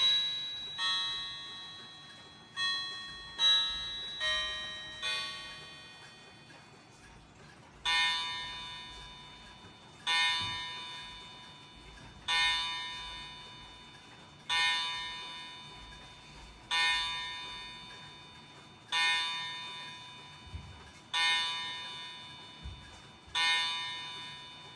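A mechanical clock strikes ten times, each ringing chime with a long decaying tail at an even pace, preceded by a few lighter bell notes and faint ticking, heard close in a quiet room.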